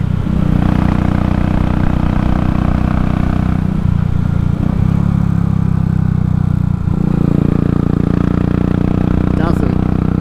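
A Royal Enfield motorcycle fitted with a Race Dynamics Powertronic unit idles steadily close by, its low engine drone continuous throughout, with a brief change partway through.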